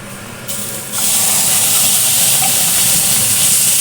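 Kharkon leaves drop into hot oil in a frying pan, setting off a sudden, loud, broad sizzle that jumps up after a brief quieter moment and then holds steady and close.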